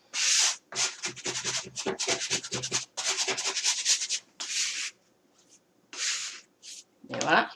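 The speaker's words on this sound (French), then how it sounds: "avec ma belle spatule, je vais aller gratter les restants" Bursts of a spatula scraping leftover dough off a kitchen counter, rasping strokes in rapid repeated runs with short pauses, close and fairly loud.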